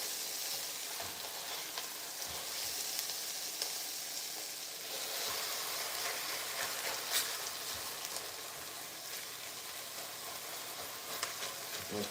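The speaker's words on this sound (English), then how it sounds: "let's break our meat up a little bit" Ground meat sizzles and fries steadily in a hot pan, a dense continuous crackle with occasional scraping knocks as it is broken up, close and fairly loud, with no talking.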